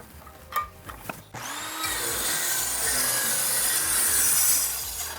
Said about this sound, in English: I can run this through my saw and cut this edge straight